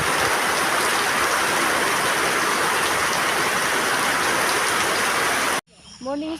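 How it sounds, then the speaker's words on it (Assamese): Rain that has fallen since early morning pours down as a loud, dense, unbroken hiss, then cuts off abruptly near the end as a voice starts speaking. "আজি ৰাতিপুৱাৰ পৰা পানী পৰি আছে"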